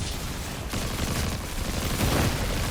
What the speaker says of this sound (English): and then it's automatic fire